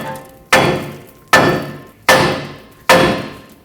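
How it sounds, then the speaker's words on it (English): Four sharp, loud metal hammer strikes on the steering knuckle of a 2003-2012 Chevrolet Colorado, evenly spaced, each ringing briefly and decaying before the next, with no talk. "tap the knuckle with a hammer and break these two apart"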